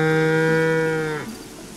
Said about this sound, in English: Hateno cow.